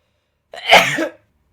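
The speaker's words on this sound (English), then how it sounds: "I'm sneezing. And my sneezes aren't cute." A single sharp sneeze bursts out close to the mic after a moment of silence, then fades quickly.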